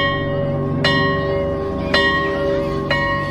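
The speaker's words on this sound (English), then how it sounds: "a few minutes later the bell went off." A bell rings at a high school, struck three times at a slow, even pace, each clear metallic strike leaving a sustained, resonant hum that carries on between strikes.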